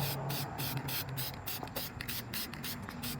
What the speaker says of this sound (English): I got one coat on now, and I'm gonna spray another coat.